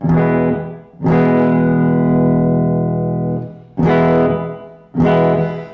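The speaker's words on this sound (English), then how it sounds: "I'm going to turn on the digital reverb" Sustained electric guitar notes ring out loud and smeared, each chord washing into a long, dense digital plate reverb tail between strikes.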